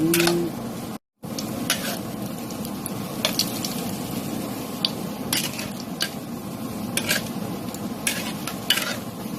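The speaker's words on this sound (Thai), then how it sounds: "ก็ทอดให้เหลืองครับ" Balls of ice cream deep-frying in hot oil give a steady, close crackling sizzle, with light clicks and taps from a utensil in the pan.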